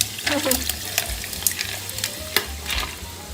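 Soda fizzing inside a large 1.7-litre Cille insulated tumbler, a close crackling hiss of bursting bubbles with scattered sharp pops and a faint brief voice.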